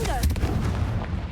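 A Confringo spell blast in the video game Hogwarts Legacy, heard as a short, heavy, booming burst that fades over about a second.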